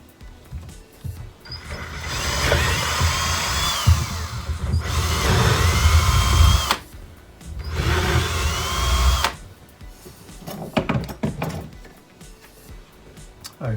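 A power drill bores holes in a fibreglass part in two or three sustained bursts, whining and grinding loudly up close, followed by rattling handling noises.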